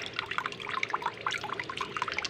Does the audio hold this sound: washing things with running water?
yes